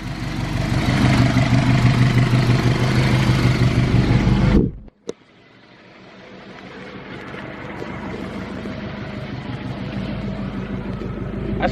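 A turbocharged Honda CRX with a swapped K20A2 engine idles close by, a steady low rumble that cuts out sharply near the middle, then settles back to an even, quieter idle.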